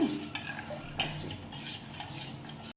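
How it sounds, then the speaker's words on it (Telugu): A utensil stirs a milk dessert mixture in a bowl until smooth, giving soft continuous scraping and light clinks, quiet and close. "ఇప్పుడు ఇదంతా ఉంటలు లేకుండా బాగా మిక్స్ చేసుకోవాలి"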